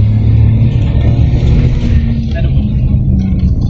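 A car engine strains hard on a road in Kashmir, giving a steady, loud low rumble throughout, with faint voices underneath.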